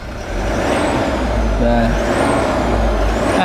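A Toyota Hilux Rangga pickup's 2GD diesel engine runs at a steady, close rumble while someone talks over it briefly.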